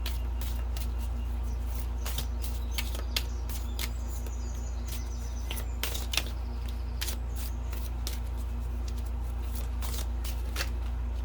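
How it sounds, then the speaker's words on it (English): Oracle cards shuffled by hand, giving a steady run of crisp riffling snaps and flicks over a low constant hum, with no talking. "let's pull a couple final oracle cards"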